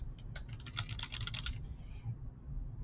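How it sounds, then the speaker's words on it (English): Rapid clicking keystrokes on a computer keyboard as words are typed out, a close, brisk burst of taps lasting over a second before stopping, with no one speaking. "If I were to type out some words and then hit return,"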